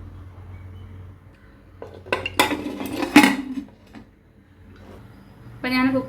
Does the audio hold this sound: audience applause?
no